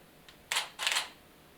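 A camera shutter fires at a slow speed while photographing artwork, giving two quick soft mechanical clacks about a quarter second apart, close and fairly quiet, after a faint tick, with no voices.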